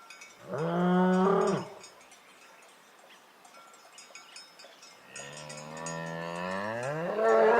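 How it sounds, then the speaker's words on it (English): A bull gives a deep, drawn-out bellow, then after a quiet stretch a second long, rising moo follows, loud and close, alone without talk. "Bull."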